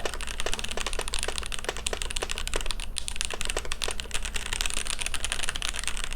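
Rapid clacking of keys on a mechanical keyboard, continuous fast typing with crisp, close clicks throughout.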